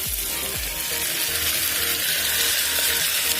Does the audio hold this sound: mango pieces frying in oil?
yes